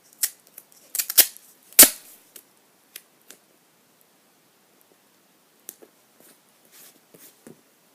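Scissors snip through duct tape, cutting it into halves: a few sharp close clicks and crisp cuts near the start, then sparse faint ticks and rustles.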